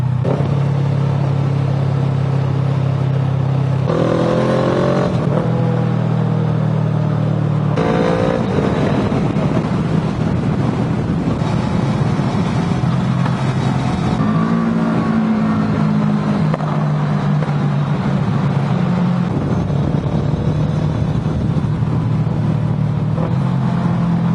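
A car engine braking, its drone shifting pitch in several distinct steps as the revs drop and rise, steady and loud without pause.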